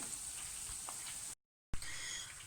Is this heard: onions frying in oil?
yes